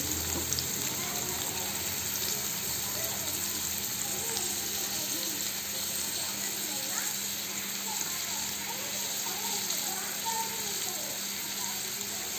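Chopped onions, cumin and mustard seeds fry in oil in a kadai, giving a steady, even sizzling hiss that runs throughout without letup.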